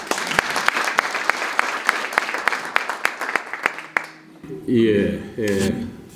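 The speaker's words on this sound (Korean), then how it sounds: "큰 박수 부탁드리겠습니다." A crowd at a political event gives loud, sustained applause for about four seconds, and then someone speaks over the fading room.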